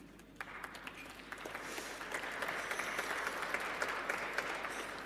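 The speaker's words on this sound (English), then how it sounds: "Thank you, brave applauders." An audience claps at a lecture, the applause swelling from a scattered start into steady, dense clapping that fills the room.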